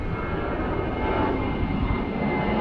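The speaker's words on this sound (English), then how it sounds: "Planes are giving it what for, as per usual." Aircraft flying overhead beside a lake, a continuous loud broadband engine roar that holds steady throughout with no talk.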